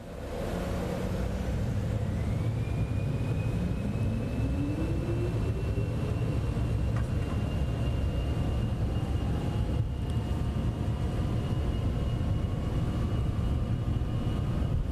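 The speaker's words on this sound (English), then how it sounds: "I'm gonna go ahead and take off here, okay? Let's go for takeoff." A Cessna Citation X business jet takes off in Microsoft Flight Simulator 2024, making a steady loud engine roar with a rising whine as it spools up and accelerates down the runway, continuous and unbroken.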